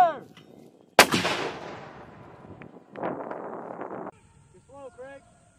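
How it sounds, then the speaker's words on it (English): A single artillery round fires during a Marine training exercise in Korea, a sharp, loud blast that rolls off into a long fading rumble, with shouted commands around it. "firing one gun, one round"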